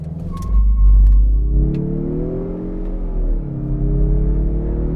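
A turbocharged car engine in sport mode accelerating hard from a standstill toward 60 mph, a loud, close, deep rumbling growl whose pitch climbs, dips at a slow gear change, then climbs again.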